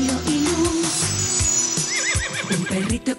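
A Barbie Pegasus winged horse toy plays a loud electronic horse neigh and whinny, with hoof clip-clop and a tinkly musical jingle underneath, filling the whole moment without speech.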